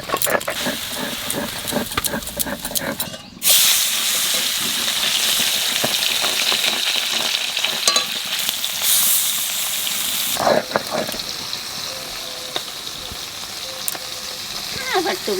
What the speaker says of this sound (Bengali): এখানে কলাই শাক নামাইয়ে পুঁটি মাছ ভাজবো।